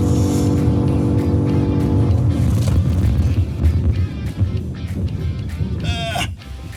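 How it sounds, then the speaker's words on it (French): A Jeep Trackhawk accelerates out of a corner, its engine roaring loud and close with a rising rev before tapering, briefly joined by a high squeal near the end. "On va commencer à accélérer, sortie du virage."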